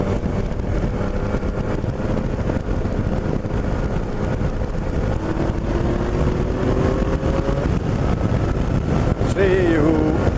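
Heavy wind buffeting a microphone on a fast ride at around 104, a constant loud roar with an engine drone underneath throughout.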